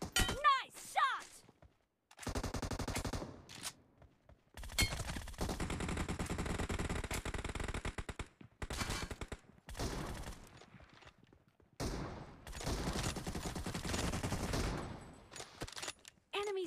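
Groza rifle fire in a PUBG team deathmatch, with loud rapid automatic bursts in several separate volleys and short pauses between them.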